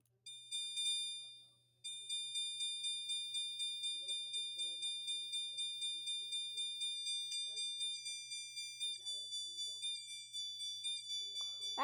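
A 24-volt fire alarm sounds with a loud, steady electronic tone pulsing in a rapid, even rhythm, alone and close to the listener for most of its length.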